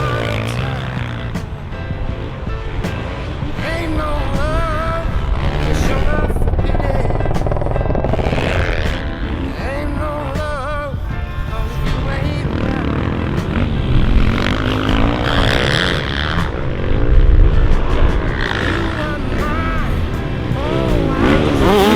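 A lone motorcycle rides a motocross track at Rakvere, its engine whining up and down in rising and falling pitch as it laps, loud and continuous, with people talking over it.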